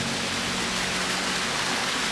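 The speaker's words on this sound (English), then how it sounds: "Tiny waterfall." A tiny mountain waterfall in the Sierra Nevada rushes as a steady, close, full hiss of splashing water, constant throughout without voices.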